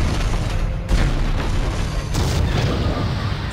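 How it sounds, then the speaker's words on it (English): Dead Space game explosions rumble as heavy, continuous low booms with a few sharper bursts, loud and dense throughout, no talking over them. "Explosions?"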